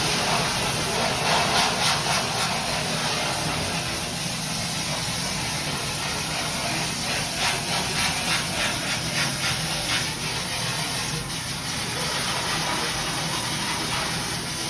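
Water spraying steadily over a silkscreen to rinse off photo emulsion, a loud, continuous broad hiss up close with faint rhythmic fluctuations and no talking.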